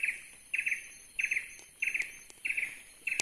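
A small cucak mini bird chirps in quick paired bursts, repeating at a steady rhythm about every half second, fairly close and clear over a quiet background.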